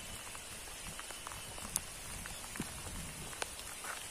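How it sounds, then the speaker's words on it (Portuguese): Rain starting to fall outdoors after descending a mountain road in Franca, São Paulo, a steady hiss of drops on surfaces with a few sharper nearby taps, continuous and moderately loud, no talk. "Já tá bem começando a chover,"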